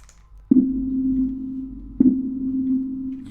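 Two synthesized organ pipe notes from the Aeolus editor, each opening with a sharp attack peak and then holding a steady pure tone, sounding one after another at moderate volume.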